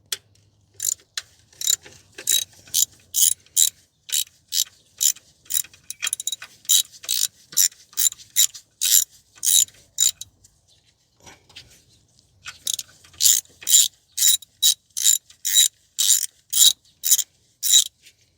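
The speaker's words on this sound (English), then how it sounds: "remove the bolt. This is a 10 millimeter nut." A ratchet loosens a 10 mm nut during a spark plug replacement on a 2015 Toyota Sienna AWD with the 3.5 L 2GR-FE V6. Rapid bursts of close, sharp clicking come in two long runs separated by a short pause.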